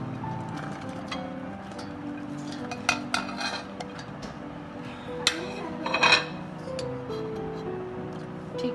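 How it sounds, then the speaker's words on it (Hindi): Onions being chopped in a kitchen chopper: intermittent plastic clacks and rattles with a busier burst of clatter partway through, close and moderately loud. "अब सबसे पहले मैं ये प्याज वगैरह डालूंगी चॉपर में और इसको अच्छा सा मैं चॉप कर लूँगी"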